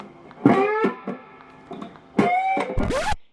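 Electric guitar playing short phrases of string bends that slide up unevenly and wobble off pitch, with choppy stops and gaps between notes, sounding awkward and poorly controlled.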